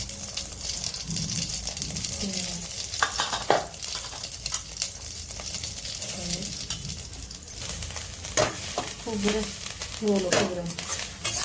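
Mustard and cumin seeds tempering in hot oil, a continuous sizzle and crackle with scattered pops, close by, while a spoon stirs and birds coo faintly in the background.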